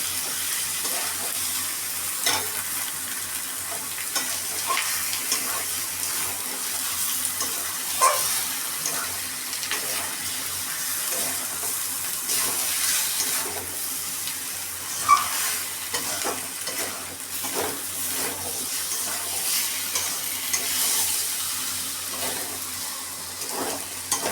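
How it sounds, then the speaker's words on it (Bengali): Chicken pieces with a pinch of turmeric powder frying in oil in a pan, a continuous close sizzle broken by frequent scraping and stirring knocks from a spatula, with no talking. "সামান্য একটু হলুদ গুঁড়ো দিয়ে এখন এটাকে আমি আধা ঘন্টার মতো ভালো করে কষে নেব।"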